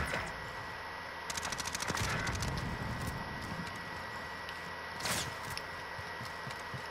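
Bursts of rapid gunfire in a Modern Warfare match, with a quick volley near the start and a sharper single crack later, heard fairly distant and moderately quiet against a steady background hum.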